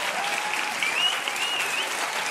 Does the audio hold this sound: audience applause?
yes